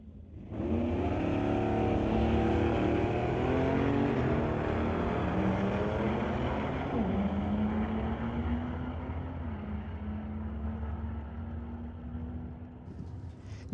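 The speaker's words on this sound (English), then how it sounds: "It's going against Jerry Delaney from Surrey in the 66 Acadian, running a 540 Chevrolet engine." Drag race launch between a 2008 BMW and a 1966 Acadian running a 540 Chevrolet engine: loud engines roar off the line and climb through gears with rising pitch, staying strong for over ten seconds before easing slightly.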